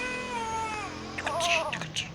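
A cat meows in a video game, a couple of short whiny mews near the end that follow a stretch of humming, voice-like tone.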